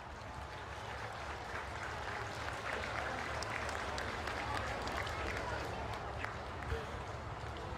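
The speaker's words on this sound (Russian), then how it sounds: "И ваши громкие аплодисменты," A large outdoor crowd at a Tank Biathlon event with T-34-85 tanks claps continuously in a broad, steady wash, heard from a distance and fairly faint, with talk mixed in.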